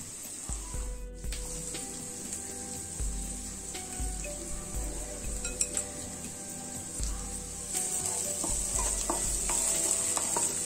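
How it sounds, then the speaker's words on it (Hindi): Potato filling for bread rolls frying in a pan, a continuous sizzle with frequent spoon scrapes and light clinks of utensil on metal, near and unbroken, no speech. "इसी तरह से फ्राई करते रहिएगा, जब तक ब्राउन हो रही है"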